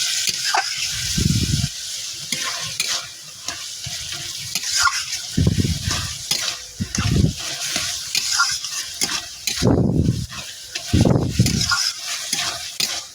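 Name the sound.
cooking bottle gourd ghonto with prawns in a pan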